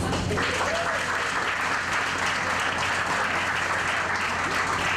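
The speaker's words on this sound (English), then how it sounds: "How about a big round of applause for our Chief?" An audience at a United Houma Nation press conference applauds the Chief, with dense, even clapping held steady and loud for the whole stretch.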